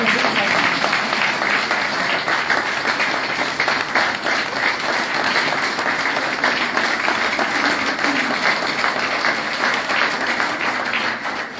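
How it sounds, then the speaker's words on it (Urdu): Loud, sustained applause from a large Pakistani community audience at an ambassador's event in Brescia, Italy, thick continuous clapping filling the room for the whole stretch and easing slightly at the end. "تھوڑا اونچا تالی بجائیں گے"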